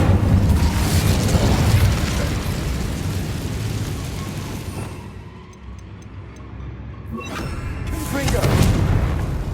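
Incendio fire spell cast in the video game Hogwarts Legacy, a loud rumbling whoosh of flame that swells, fades briefly, then surges again, close and dominant.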